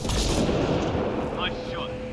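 A heavy gunshot boom from a weapon in Mass Effect: Andromeda, loud and close, dense rumbling blast filling the clip and slowly decaying, with faint brief sounds near the end.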